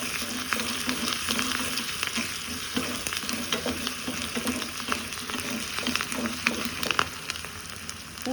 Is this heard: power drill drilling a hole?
no